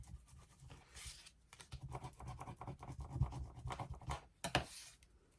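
Glued paper card being smoothed with a burnishing tool, close quiet scraping strokes rubbing back and forth in quick irregular bursts, with a couple of louder swipes near the end.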